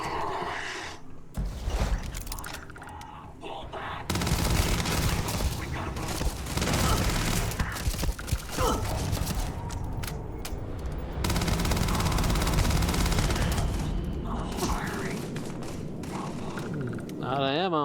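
Dense automatic gunfire and heavy thuds fill a Starfield combat fight, long bursts running almost continuously with explosive booms, while a player's voice talks over the action.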